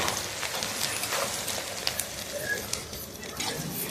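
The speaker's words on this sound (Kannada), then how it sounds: "ಈರುಳ್ಳಿ ಸ್ವಲ್ಪ ಚೆನ್ನಾಗಿ ಅಂದ್ರೆ ನಾನು ಜಾಸ್ತಿ ಬೇಯಿಸಿಲ್ಲ ಸುಮ್ಮನೆ ಹಂಗೆ ಗೋಳಿಸ್ಕೊಂತ ಇರೋದು ಅಷ್ಟೇನೆ" Onions sizzle gently in a pan while being stirred, a steady crackling fry with small scraping clicks throughout, close and moderately quiet, no voices.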